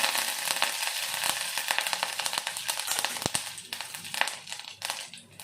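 Dried red chillies and curry leaves crackling and sizzling in hot oil for rasam, with dense spitting pops and bursts close up, no voices.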